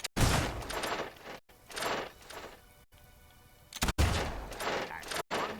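Gunfire rings out at a shooting gallery in the fantasy video game Fable II, with several loud bursts of shots separated by short gaps, interspersed with brief talk.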